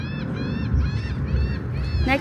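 Birds calling near a dragon boat tournament, a steady series of harsh, honking calls overlapping one another over a constant outdoor background rumble.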